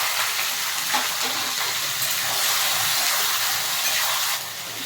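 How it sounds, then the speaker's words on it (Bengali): Chopped onions sizzle in hot oil in a pan for a mutton curry, giving a steady, close, hissing fry that stays even throughout with brief soft stirring scrapes and no talk. "পেঁয়াজটা ভেজে নেব"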